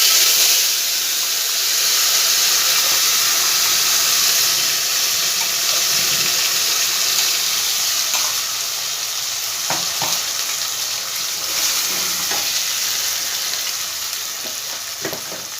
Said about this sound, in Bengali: এবার বেটে রাখা মশলাটা এর মধ্যে আমি দিয়ে দেবো।